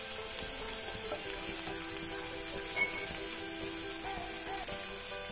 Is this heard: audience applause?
no